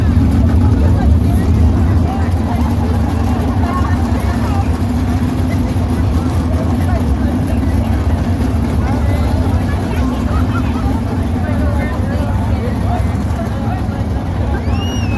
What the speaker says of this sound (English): Trevor Mill in the 27X car rounds out the 9-car lineup for 10 laps in our Buffalo Wild Wings Sprint Car Heat number 2.